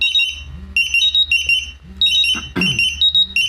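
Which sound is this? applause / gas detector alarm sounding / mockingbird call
gas detector alarm sounding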